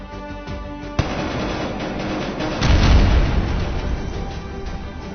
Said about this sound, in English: The mine is cleared and all awaiting blasts are set off sequentially.